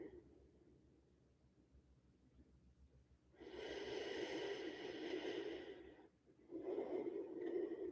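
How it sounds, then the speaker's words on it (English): Deep breathing during a restorative yoga session, two long, close, airy breaths, the first starting after a quiet stretch and the second following a brief pause, with faint talk in the quiet parts. "So 2 more big breaths here."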